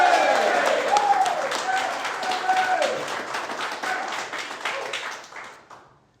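An audience claps in a dense, steady patter that slowly thins out and fades near the end, with some voices and cheering mixed in.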